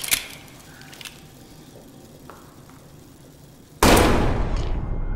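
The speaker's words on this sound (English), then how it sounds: "Alright, we're shooting this lock." A gunshot blast at a lock in the horror game Amnesia: The Bunker, a sudden loud crack late on with a decaying tail after a quiet stretch containing a few faint clicks.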